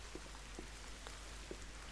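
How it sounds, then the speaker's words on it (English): Rain falling in the survival video game The Forest, a faint, steady hiss with scattered soft drop taps and no one speaking. "But at the moment it's raining."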